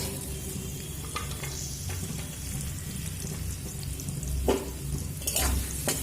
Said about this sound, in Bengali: পেঁয়াজটা ভাজা হতে দেব